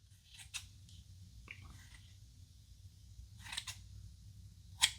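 Scissors snip through grass material for a model diorama, a few brief quiet cuts spaced apart, with a sharper snip near the end over a soft low background hum.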